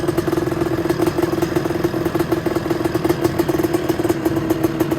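Several 250R three-wheelers running at a sand dune meet, a steady loud engine drone with rapid clattering pulses, close by and continuous with no talk.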